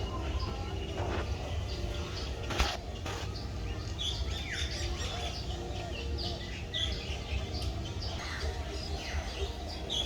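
Several birds chirp and tweet intermittently at moderate distance in an aviary, with a few sharp calls over a constant low background murmur.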